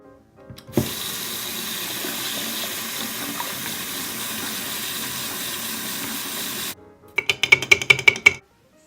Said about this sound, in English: We wash our brushes with odorless paint thinner.